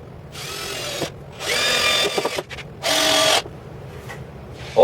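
A power drill drives screws while a woodworking vise is mounted, with three loud whirring bursts of roughly half a second to a second each, separated by short pauses and faint handling noises.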